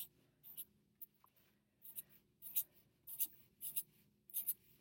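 A pen stylus stroking across a drawing tablet, producing soft, quick scratchy taps and short strokes in an irregular rhythm, close and quiet in a hushed room.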